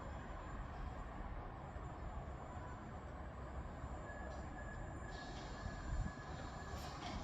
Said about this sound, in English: arriving in now is the 1419 Scotrail service from Edinburgh Waverley to Helensburgh Central